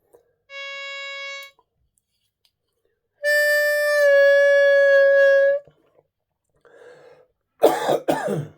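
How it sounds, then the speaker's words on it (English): Two sustained harmonica tones, then a short, rough cough near the end after a pause. "Got a bit of a cough going on here."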